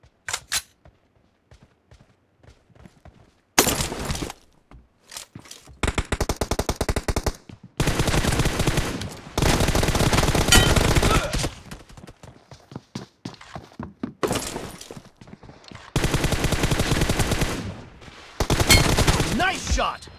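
Bursts of automatic gunfire from a 2v2 team deathmatch video game, loud rapid volleys separated by short quiet gaps, with near-continuous firing in the middle stretch.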